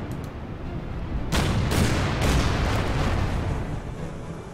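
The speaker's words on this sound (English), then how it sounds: "we'll get this cruiser over here, take a shot at this one" Naval gunfire from a cruiser in the wartime strategy game Order of Battle, Kriegsmarine campaign at Narvik: a dense rumbling boom lands after a low steady din, followed by a few further heavy blasts and a sustained rolling roar.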